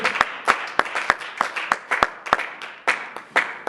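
A congregation at a church anniversary retreat claps in scattered, uneven bursts, with sharp individual claps standing out over a steady wash of applause that holds for several seconds.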